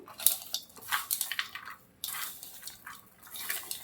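Onion mixture for Maddur vada squeezed and mixed by hand in a bowl, giving soft wet squishing and scraping in short bursts with small gaps, close and quiet.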